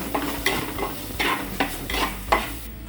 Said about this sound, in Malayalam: അങ്ങനെ കട്ടാക്കിയ തക്കാളി നമ്മൾ അതിലേക്ക് ആഡ് ചെയ്യും. എന്നാൽ വഴറ്റണം ചെറുതായിട്ട്.